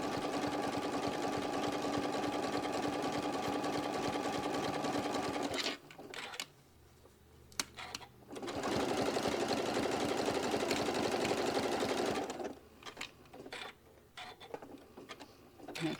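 A sewing machine stitches along the edge of a sewing project, running in two long steady bursts separated by a quiet pause with small handling clicks, close and loud with no talk.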